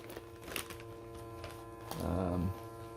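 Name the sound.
USB electric pump vacuuming a travel storage bag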